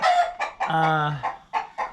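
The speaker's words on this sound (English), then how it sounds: "we've got about 53 hens and about 7 roosters" Hens cluck in quick bursts close by on an Oklahoma farm while a rooster lets out a drawn-out crow in the middle, loud and near.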